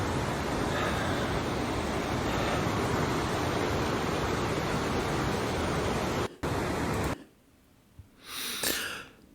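Linville Falls pours into the gorge below, a loud, steady broadband roar of falling water close by, cut off abruptly near the end before a brief return.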